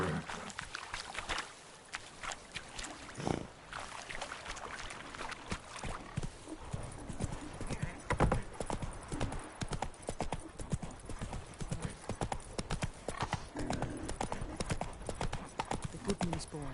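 Galloping horse hooves in The Witcher 3 video game beat in a steady rapid clip-clop throughout, with game voices talking over the top of the hoofbeats.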